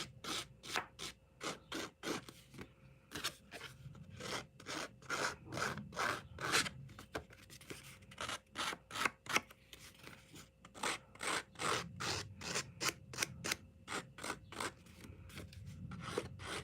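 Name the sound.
scissors roughing up paper edge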